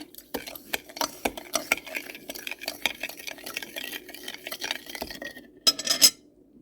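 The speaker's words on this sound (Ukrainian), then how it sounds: "Перемішуємо." Quick, repeated scraping and tapping of a utensil against a bowl as kefir batter with sugar is stirred briskly, close up, with a faint voice near the end.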